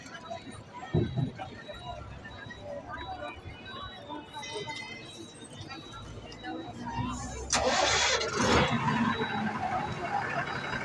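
A pilgrimage bus's engine starts up with a cranking burst and settles into a steady idle rumble, with a louder rev near the end and people talking around it.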